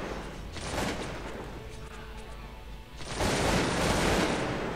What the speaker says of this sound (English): it looks like my guys are being bombarded